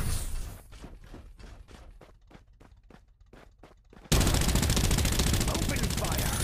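Gunfire in the video game Farlight 84 rattles out as a rapid, evenly spaced string of close shots, then gives way to a dense, loud wash of sustained battle noise.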